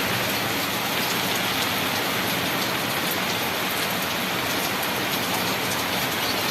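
Heavy rain pours down outdoors as a dense, steady hiss of drops hitting surfaces, loud and unbroken from start to finish with no talking.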